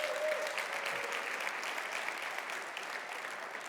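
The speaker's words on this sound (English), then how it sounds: "How about another round of applause for Tatiana Lalkovic?" Steady applause from a crowd, clapping evenly throughout at moderate distance without any voices standing out.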